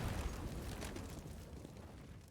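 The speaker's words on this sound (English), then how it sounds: "See a little bit of exchange of grenades and gunfire there up on short." Grenade explosions in a Counter-Strike match on the Dust 2 map, a faint booming burst that fades out over a couple of seconds, with no voices over it.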